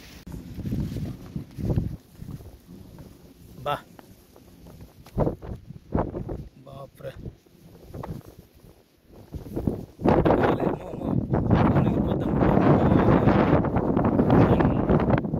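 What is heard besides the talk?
strong wind blowing in Kuwait desert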